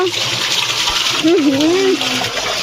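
A tap runs steadily in a bathroom during a child's hand washing, a full gushing splash with a faint voice briefly rising over the water.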